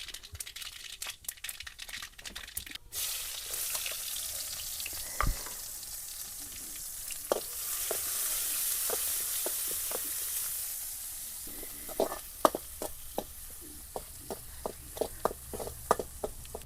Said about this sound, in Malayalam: അതാ ചെറിയുള്ളി അരിഞ്ഞു കൊടുത്തിട്ടുണ്ട്